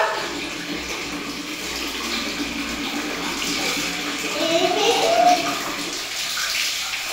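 Water splashing and running as a child bathes and shampoos her little sister, a steady wash of pouring and sloshing with a small voice rising briefly near the end.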